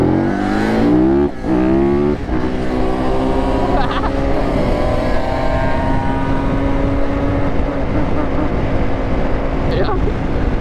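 Quad bikes race flat out, their engines roaring loud and close, with pitch climbing and falling through hard revs and gear changes, a steady drone that never lets up.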